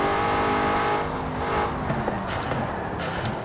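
A car engine with a 75-horsepower original engine and a troublesome gearbox revs in Forza Horizon 4: a loud, sustained mechanical drone with clear engine tones that fall away, then lighter rumbling and small clicks at close range.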